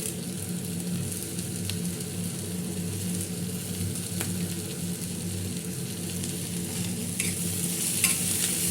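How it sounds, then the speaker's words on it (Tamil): Curry leaves and coriander sauté in a pan for chutney, producing a continuous close sizzle and frying hiss with occasional light scrapes of stirring, steady in level and with no voices. "வதக்கிட்டு இப்போ கருவேப்பிலை அள்ளி போடணும்"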